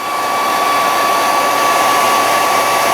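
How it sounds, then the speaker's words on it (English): A hair dryer blows steadily on plastic pieces of a 1/72 scale model kit, a loud continuous whoosh with a steady high whine held throughout. "hopefully you can hear me talk over the hairdryer."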